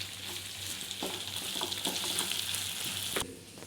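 Spices for chicken korma fry in hot oil in a pan, a continuous close sizzle broken by scraping stirs and spoon knocks, with no one talking.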